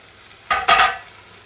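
Two quick scraping stirs of toasted pine nuts in a pan, one short then a slightly longer one, close and fairly loud against near silence.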